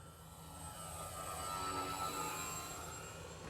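A Dynam Messerschmitt BF-110 twin-engine RC model plane comes in to land, its steady motor drone with a high whine holding fairly loud and even throughout, with no one talking.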